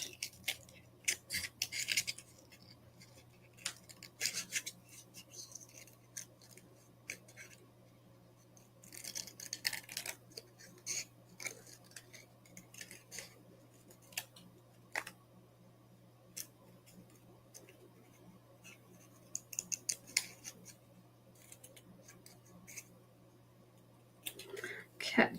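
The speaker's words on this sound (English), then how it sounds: "I'm gonna cut this one out." Scissors cut out paper pieces for a junk journal, giving quiet, close snipping bursts in scattered clusters over a soft steady hum, with faint low talk now and then.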